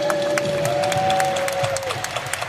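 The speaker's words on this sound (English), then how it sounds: "Clap it up for Virginia." Applause from an audience at a probation and parole summit, steady, dense clapping with crowd noise and a sustained tone underneath, fairly close and even throughout.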